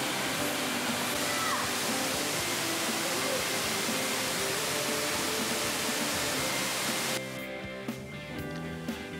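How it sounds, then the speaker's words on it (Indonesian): Tirta Rimba waterfall in forest near Bau-Bau pours from mushroom-shaped, canopy-like rocks, producing a loud, steady broadband rush that drops abruptly in level near the end, with faint voices beneath. "Air jatuh dari bebatuan yang mirip dengan kanopi, berbentuk cendawan atau jamur."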